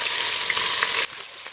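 Meat frying in hot oil in a skillet gives a loud, dense crackling sizzle that fills the scene, then drops abruptly to a softer steady hiss with a few pops.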